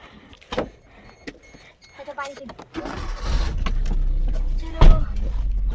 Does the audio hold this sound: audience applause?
no